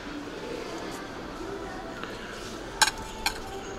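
Plates and dishes on a shelf in an IKEA store clink sharply twice in quick succession over a soft, steady store hum.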